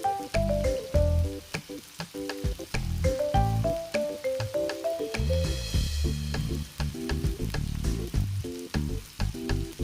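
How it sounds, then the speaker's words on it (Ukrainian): Chicken sausages sizzle and crackle steadily in a hot pan over high heat, a busy spattering hiss, with soft music playing underneath. "Ковбаски підсмажую з двох сторін на великому вогні."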